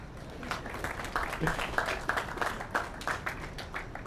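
Scattered clapping from an audience, moderately loud and continuous, with a steady crowd murmur mixed in.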